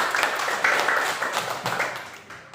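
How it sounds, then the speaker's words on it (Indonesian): Classroom of children applauds during an Indonesian lesson, a short round of clapping with distinct bursts of claps that gradually fade toward the end. "Beri tepuk tangan dulu."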